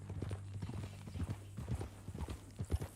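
Horse hooves clip-clop steadily in the Red Dead Redemption 2 video game, soft muffled footfalls in an even walking rhythm under a low hum, fairly quiet.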